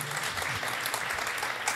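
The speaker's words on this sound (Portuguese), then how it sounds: "Palmas para o Rony, pessoal" Applause from an event audience welcoming a speaker to the stage at a security talk, a brief, steady patter of clapping at moderate distance.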